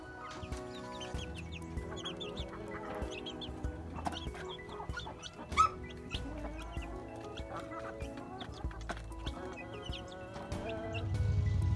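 Two-week-old barred rock pullet chicks on a homestead, a dense stream of soft clucks and peeps from several birds close by, steady and busy with no talk.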